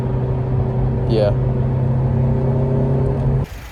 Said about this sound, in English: as you guys can hear, I mean, the car is idling right now. You can literally hear it.